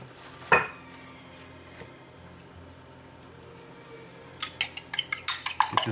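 Eggs with salt and pepper whisked in a bowl, a sharp clink early on, then a quiet stretch before a run of quick, rhythmic scraping taps against the bowl.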